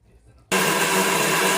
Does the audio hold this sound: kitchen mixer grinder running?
yes